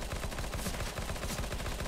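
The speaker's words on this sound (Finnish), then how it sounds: "toi vihu ampuu uspillako? Ei, se ampuu MP5:llä." Rapid automatic fire from an MP5 submachine gun in Counter-Strike: Global Offensive, heard as one steady, continuous burst of closely spaced shots with no talking.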